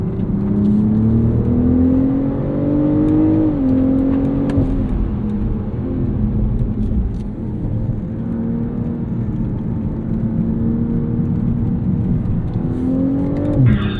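BMW performance cars, including an M2, i5 M60, M4, X4 M and Z4 M40i, accelerate around a race track, with a loud continuous engine drone rising in pitch through gear changes and steady revving close by, no talk.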